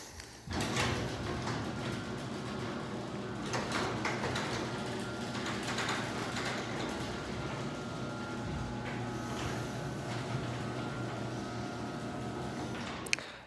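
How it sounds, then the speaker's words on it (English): An electric opener drives a residential garage door downward, giving a steady mechanical rumble and whir that runs close and even for over ten seconds before a short thump as it seats at the bottom. "let's run the garage door down"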